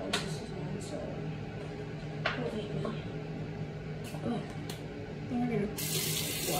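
Water runs from a tap into a sink, a steady splashing wash with small bumps and knocks over it, and a louder hiss of flow swells near the end.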